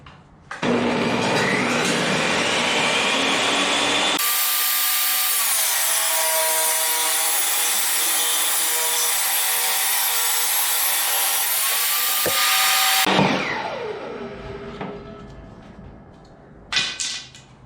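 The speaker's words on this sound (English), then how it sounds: "table saw is right at 7 inches now, and we just got to take the rough edge off all these" A table saw rips the rough edges off wooden boards for a farmhouse-style three-tier shelf: the motor whines, then a loud, steady cut of about nine seconds, followed by the blade spinning down and a brief rattle.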